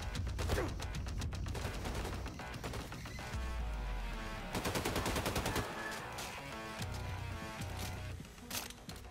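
Rapid bursts of gunfire and machine-gun fire crack through a video-game firefight in Wolfenstein II, loud and dense, layered over music playing steadily underneath.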